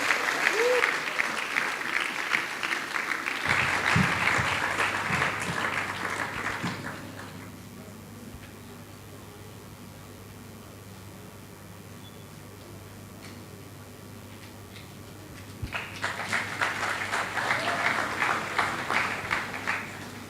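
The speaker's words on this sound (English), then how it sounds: "A round of applause for him." Audience applause at a forum event swells for several seconds, fades into a quiet room with low hum, then rises again as a fresh round of clapping from a sizable crowd.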